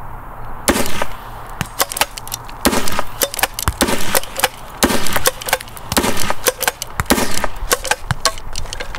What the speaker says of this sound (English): we had one chalk round explode because that's how chalk works